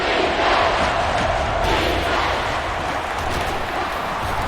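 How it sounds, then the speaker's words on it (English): A stadium crowd roars in the NCAA Football 10 video game during a Penn State versus Alabama match, a loud, dense, steady wall of cheering with no break. "This crowd is almost shaking the stadium."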